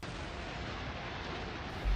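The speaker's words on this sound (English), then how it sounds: "Big explosion, building." Dense, sustained blast rumble from an explosion in a Modern Warfare 2 game trailer, a loud, broadband roar that holds steady with a heavier low thump near the end.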